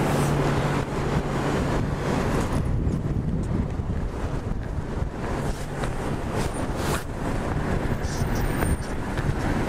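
Wind gusts along a downtown Toronto street, a steady loud roar buffeting the microphone throughout with no pauses.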